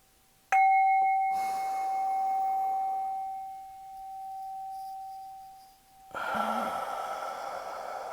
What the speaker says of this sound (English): Let's take just a few deep cleansing breaths. Filling up. Exhaling it all out.